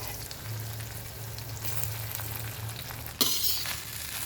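Cooked rice frying in oil in a pan for mango pulihora, a steady soft sizzle running throughout with a sharper burst of crackle near the end, no talking.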